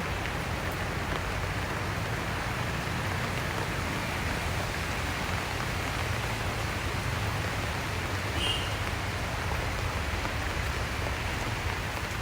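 Rain falls steadily at a plant nursery full of bougainvillea and foliage plants, a dense, even hiss of drops on leaves and surfaces continuing without pause.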